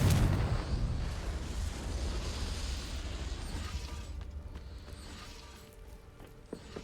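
A Confringo blasting spell explodes in Hogwarts Legacy, a heavy booming burst at the start that rolls into a long rumbling decay, with faint clattering debris fading out.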